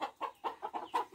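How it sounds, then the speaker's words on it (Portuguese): Hens cluck close by in a quick, rhythmic run of short bursts, about six in just over a second, with no talking. "Agora estão se conversando. as galinhas aqui ao redor."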